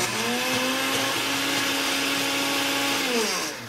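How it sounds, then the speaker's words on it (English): A blender runs steadily, whirring loud and close as it purees strawberries for a strawberry vinaigrette, its pitch shifting slightly midway before winding down at the end. "we're going to just put that blender on"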